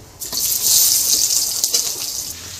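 Chopped onions hit hot oil with bay leaf, cumin and chilli while ghugni is being made. A sharp burst of sizzling starts at once and settles into a loud, even hiss with no talk.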